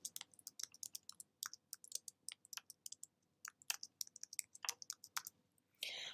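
Typing on a computer keyboard while entering text into a spreadsheet cell, a quick irregular run of light, crisp key clicks up close, ending in a brief louder burst of rustle.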